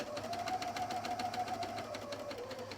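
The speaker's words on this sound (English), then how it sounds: "we're going to serge all the way to the edge" A Bernina L 460 serger runs an overlock seam out to the fabric edge, a quiet, rapid, evenly pulsing mechanical whir held steady at close range.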